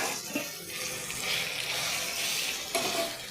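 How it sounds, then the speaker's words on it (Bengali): Turmeric, chili, coriander and cumin powders fry with chopped tomato for a chickpea curry, producing a dense, continuous, fairly loud sizzle and hiss with stirring, and a couple of soft knocks. No one speaks. "ভালো করে একটু মশলাটা ভেজে নেব"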